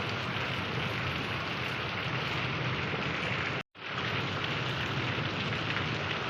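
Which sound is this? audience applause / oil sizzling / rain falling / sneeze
rain falling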